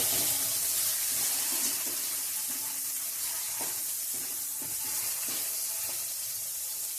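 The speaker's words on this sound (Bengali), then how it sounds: "এই মশলাটা একটু কষে নেব" Spice paste sizzles and fries in a pan as it is cooked down for a curry of bottle gourd stems with potato and eggplant, a steady hissing sizzle with occasional stirring scrapes and clinks close by.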